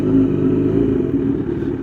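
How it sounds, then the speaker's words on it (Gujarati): A motorcycle engine runs close by at a steady low idle while the bike is brought in to park near a temple, a loud even rumble with a slight clatter and no speech. "હવે આપણે અહીંયા બાઇક પાર્ક કરી દઈએ"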